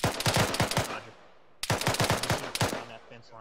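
Bursts of Arma 3 gunfire from elevated positions rattle out in two loud, rapid volleys, the rounds cracking in quick succession with a brief lull between, close and sharp.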